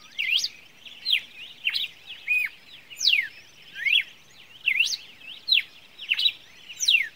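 A red-cowled cardinal sings a repeated series of bright, sweeping whistled phrases, clear and fairly close, with short pauses between each phrase and no talking.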